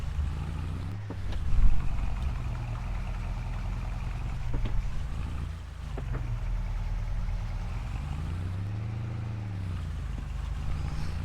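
A farm truck engine in a video game runs steadily in gear and swells briefly as it revs, a low continuous drone with a slight rise and fall in pitch, heard alone without talk.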